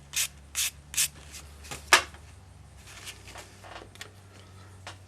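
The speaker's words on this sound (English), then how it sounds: "Just to make sure there's no burr on the edge of this, I just lightly pass my sandpaper over it" Sandpaper passes lightly over the end of a metal wire to smooth a burr, giving a few short, quiet rubbing strokes in quick succession and then fainter scrapes against a soft background hum.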